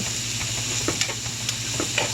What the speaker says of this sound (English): Just keep stir frying it.